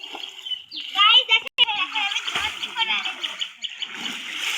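Children splash and swim in a village pond, stirring the water into waves with close bursts of splashing and churning, mixed with kids' voices and someone talking nearby.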